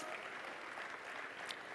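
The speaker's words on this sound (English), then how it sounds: "give her a round of applause" Faint, distant applause at a university student leaders' gathering as a student association president is called up, a soft steady wash of clapping with no talk over it.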